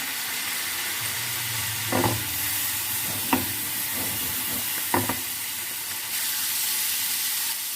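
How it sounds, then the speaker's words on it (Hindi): Chicken sizzles in a pan with a constant frying hiss, and a few sharp clinks and stirring knocks stand out at about two, three and five seconds. "चिकन को दोनों साइड से हम फ्राई कर लेते हैं"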